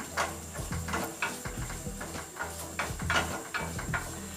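Onion, tomato and capsicum sizzle and fry in a pan for street-style Maggi, with a steady close crackle and regular light scraping of a spatula throughout.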